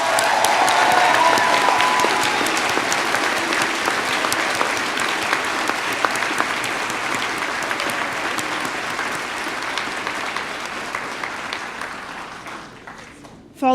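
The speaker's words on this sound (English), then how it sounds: "I think you all deserve a final round of applause." Graduates and guests at a university convocation ceremony break into sustained applause, a loud, dense clapping that slowly thins out over about a dozen seconds before ending abruptly.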